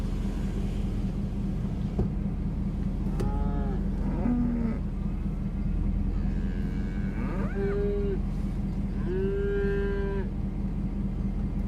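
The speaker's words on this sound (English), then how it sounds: "If you hear the cows, there they are." Cattle lowing in open country in northern Oklahoma during a storm chase. Several long moos come from a middle distance over a constant low rumble of wind and engine noise, with no talk.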